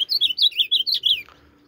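An azulão (ultramarine grosbeak) singing close and loud: a quick run of about seven bright, warbling whistled notes in even rhythm, then a short falling note before it stops.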